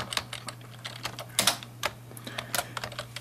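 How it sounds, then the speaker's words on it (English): Someone typing a file name on a computer keyboard, close clicking keystrokes in an uneven rhythm with a few louder clustered taps, over a low steady hum. "excuse me for a second while I type this in"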